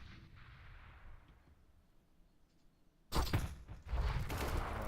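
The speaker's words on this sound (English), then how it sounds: "Good nade stack over there at the B site." Counter-Strike match audio, with grenade blasts stacked at a bombsite and gunfire: a muffled, fading rumble, then a sudden loud burst of explosions and shots that continues roughly to the end.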